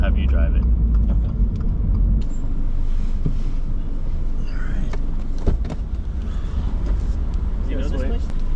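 A 2022 Toyota GR86 or Subaru BRZ drives with traction control off, its engine and road noise a steady loud drone as the car slows to pull over, with people talking in the cabin.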